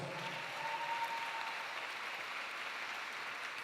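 Guests at the Wings of Hope for Melanoma NYC gala give a round of applause, a steady, fairly distant wash of clapping from a large room, even throughout.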